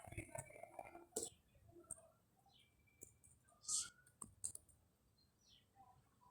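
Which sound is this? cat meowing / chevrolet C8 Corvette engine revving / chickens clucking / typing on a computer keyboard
typing on a computer keyboard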